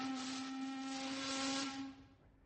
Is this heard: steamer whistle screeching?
yes